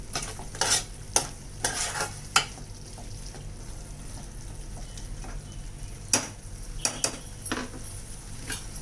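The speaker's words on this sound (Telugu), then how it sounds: "అంతా మసాలా అంతా చేపలు పట్టేలాగా మొత్తం అంతా నీట్గా కలిపేసుకోవాలి" Masala being stirred into a dried fish curry in a pan, soft scraping and clinking spoon strokes in short bursts over a low steady background, fairly quiet with no speech.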